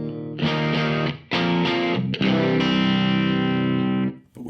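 Electric guitar tuned down to C standard, a J Mascis Squier, played through an LPD Pedals distortion pedal: thick distorted chords struck in several bursts, the last one ringing out and fading, with no talking.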